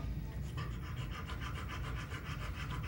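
A dog pants heavily in quick, steady rhythmic breaths, close and continuous, with a person's voice faintly present alongside.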